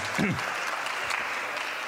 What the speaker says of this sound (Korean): 그러면 큰 박수로 한번 김찬우님을 모셔보도록 할게요